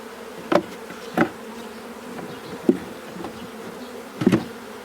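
Bees clustered on hive frames after a swarm catch, with honey frames in the middle and open frames around, give a low steady buzz broken by several louder passes as individual bees fly close by.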